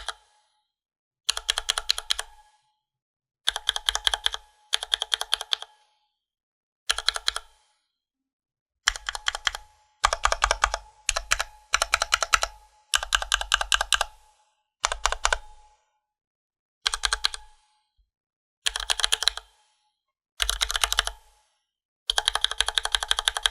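KBDFans Tofu HHKB hotswap keyboard with unmodded retooled Cherry MX Black switches and lubed stabilizers, typed in close, loud bursts of rapid clacking separated by short pauses.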